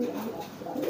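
A pigeon coos softly and continuously while feeding its young, a low steady murmur that stays close and fills the whole stretch without other sounds.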